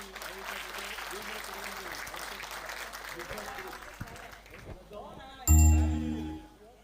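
Applause for guests from a gathered audience, a moderate patter of clapping under a voice that fades, followed by a sharp loud knock and ringing tones.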